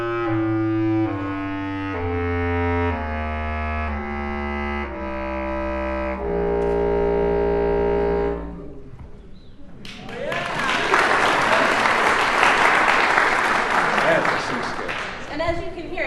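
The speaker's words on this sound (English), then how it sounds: "So we call this low C bass clarinet." A low C bass clarinet descends step by step through its lowest notes, deep and sustained, then the playing stops and a burst of applause follows.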